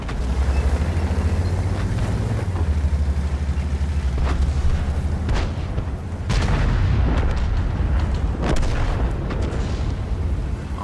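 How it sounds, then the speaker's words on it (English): Artillery fire in World of Tanks: a steady low rumble of battle under a string of sharp booming impacts, several loud blasts spaced through the middle and later part, with no speech. "Artillery's doing the job."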